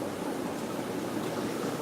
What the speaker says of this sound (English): We have water coming in the tanks here.